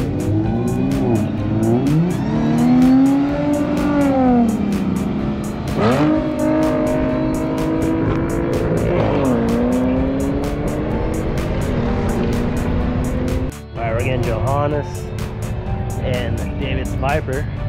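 Cars at a drag strip, including an Aston Martin, with engines revving and accelerating hard through rising and falling gear pulls, loud and close throughout, with steady background roar and a voice talking over it.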